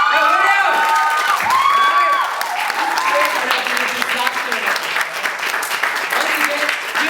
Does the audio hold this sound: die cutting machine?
no